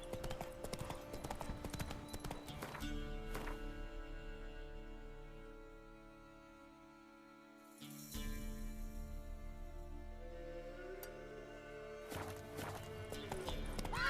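Horse hooves in The Witcher 3 game clip-clop in a steady rhythm that stops partway, then picks up again, with music and faint speech in the background.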